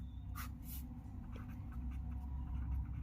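Pen writing on an exam paper, with a few faint scratchy strokes over a steady low background hum, quiet and close, no talk.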